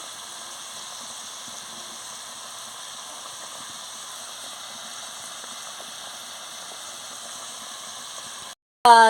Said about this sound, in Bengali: কি সুন্দর ফুটছে টকবক করে